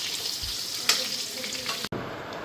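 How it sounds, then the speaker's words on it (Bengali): Steady sizzle of eggplant slices frying in a hot pan, a continuous hiss with a brief clatter midway and a short cut near the end. "আর এদিকে গরম গরম বেগুন ভাজাটা"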